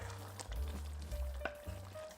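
Eggplant and peppers drop into a pot of hot tomatoes for ajvar sauce and sizzle loudly, with stirring and scraping under a continuous frying crackle and no talk.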